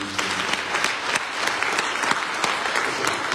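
A church congregation at a Sunday worship service claps hands together, dense sustained applause with a loose rhythmic pulse, loud and filling the room without talking on top.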